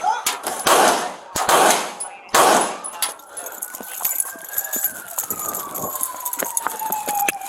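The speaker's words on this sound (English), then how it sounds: "shots fired" Gunfire erupts during a police officer-involved shooting in a Los Angeles street confrontation, several loud sharp cracks in the opening seconds amid shouting, followed by a wailing siren that carries on underneath.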